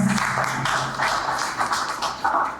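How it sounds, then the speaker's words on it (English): Audience at a media launch event applauds in a brief burst of scattered hand claps, moderately close and fairly sparse, with an uneven rhythm that tapers slightly toward the end. "Round of applause for the incremental partners."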